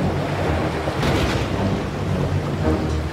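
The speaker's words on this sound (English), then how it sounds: "the waves began to break apart the prince's boat" Stormy sea waves crash and churn against a boat in a fairy-tale shipwreck scene, a continuous loud roar of surf and wind with a brief surge of spray near the middle.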